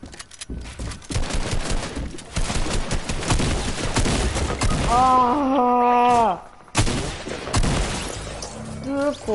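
Assault rifle fire in Fortnite, rapid crackling bursts of shots with gameplay noise, then a voice groans over the gunfire and the firing resumes after a brief pause.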